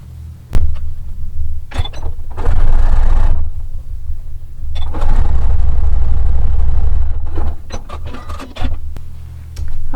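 A sewing machine stitches the last row of a quilt in two long, loud bursts of rapid mechanical whirring, separated by brief pauses and scattered clicks.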